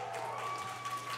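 Applause from a crowd watching a SpaceX rocket launch broadcast, a steady mid-level patter of clapping filling the moment, with a faint tonal hum underneath.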